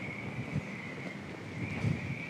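Strong wind of about 35 km/h on Balchik beach and bay makes a steady thin whistle over a broad, blustery roar, with a few gusty buffets against the microphone.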